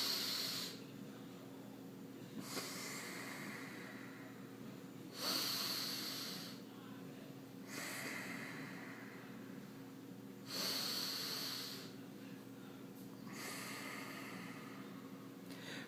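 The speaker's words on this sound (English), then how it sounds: "you'll want to start by taking a few deep breaths" Slow deep breathing during meditation, close and quiet, with a regular cycle of long breathy inhales and exhales about every two to three seconds over a faint steady background hum.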